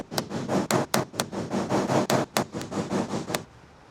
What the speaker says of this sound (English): I might transfer over to a wooden block with a metal hammer, but I'll try and give this a couple more good whacks